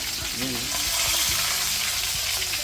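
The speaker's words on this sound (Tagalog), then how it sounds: "Prito tayo ng isda." Fish frying in hot oil, a loud constant sizzle and crackle with faint scraping sounds underneath.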